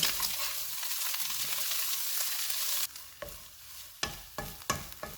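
Spiced mashed potato filling with salt and green coriander for bread samosas being sautéed in a pan, a steady sizzle giving way to distinct spatula scrapes and knocks near the end.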